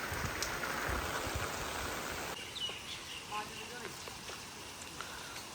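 Steady rain patters on surfaces outdoors, a continuous wash of drops with a few faint bird calls in the background.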